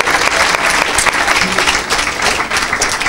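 A church congregation breaks into sustained applause, a dense, steady wash of clapping hands filling the room at close range for the whole stretch.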